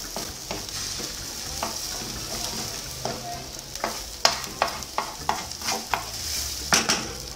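Egg sizzles steadily as it is scrambled in a hot nonstick pan while a utensil scrapes and taps against it in repeated strokes, close and clear with no talking.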